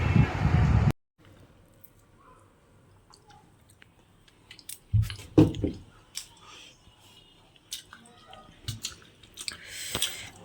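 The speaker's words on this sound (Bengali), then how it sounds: "প্রসাদ খাচ্ছি এখন বন্ধুরা।" Someone eating prasad sweets such as makha sandesh, soft close chewing and wet mouth sounds in short bursts amid quiet, after a brief loud noise at the start.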